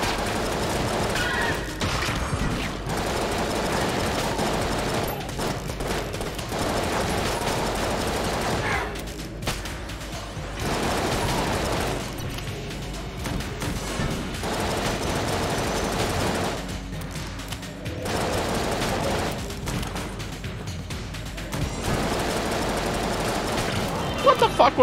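Rapid, continuous video-game gunfire from Enter the Gungeon during a fast speedrun, dense volleys of shots layered over busy game music and effects, loud and nearly unbroken for the whole stretch with a few brief dips.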